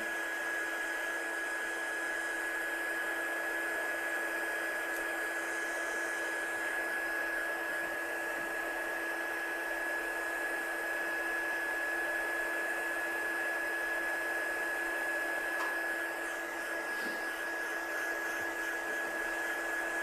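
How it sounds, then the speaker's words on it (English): A heat gun blows steadily to dry ink on a handmade card, a constant, even whirring hiss with a faint high whine that holds unchanged for the full stretch, with no talking. "So let's just dry this off with our gun, get that bleach effect to come through."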